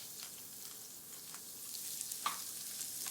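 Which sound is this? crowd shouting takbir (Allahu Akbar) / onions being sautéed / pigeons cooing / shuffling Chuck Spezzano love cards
onions being sautéed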